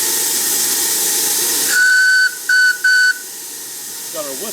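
A coal-fired steam engine hisses loudly with steam, then its whistle sounds three clear blasts: one long, then two shorter ones in quick succession, before the hiss fades to quiet.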